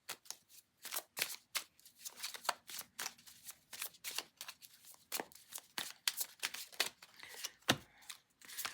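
Oracle cards being shuffled by hand, a close, quiet run of crisp riffling flutters and snaps repeating in quick bursts, with no talking.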